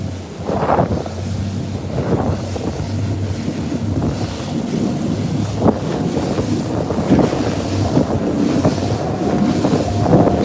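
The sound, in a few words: fishing boat going over big waves from a yacht's wake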